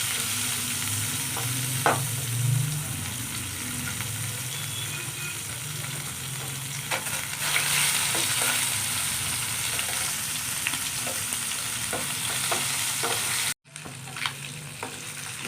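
Magur fish frying in pure mustard oil in an Odia kitchen, a steady crackling sizzle running throughout with occasional stirring scrapes and spatters.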